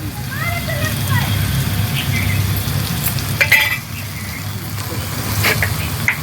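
Ginger-garlic paste goes into onions and tomatoes frying in a pan, with a loud, continuous sizzle and a few clinks and scrapes of stirring up close.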